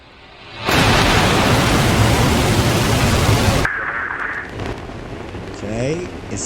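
A rocket launch in the space-agency strategy game Mars Horizon: a loud, steady roar of broadband rumble runs for about three seconds, then drops to a quieter rushing tail with a short tone and rising chirps.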